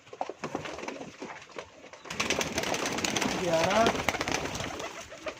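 Pigeons coo close by, the soft throaty calls rising in the second half while a man counts aloud over them.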